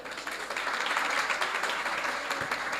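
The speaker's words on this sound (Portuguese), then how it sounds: "para os seus aplausos" Audience applause welcoming an invited speaker at a panel session on public policy and children's budgets in Santa Catarina, Brazil: a steady, fairly faint wash of many hands clapping, with no talking over it.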